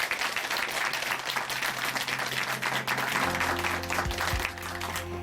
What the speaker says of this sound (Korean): 형제님께 다시 한번 감사의 박수 보내드리겠습니다